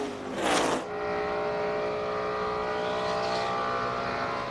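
NASCAR race cars roar steadily around the track at the 2003 Sirius 400, a dense, continuous engine drone with one louder car sweeping past near the start.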